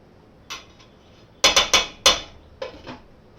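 A spoon stirs greens into a home-cooked pot dish, knocking and scraping against the pot in a handful of sharp, close metallic clinks with short gaps between them.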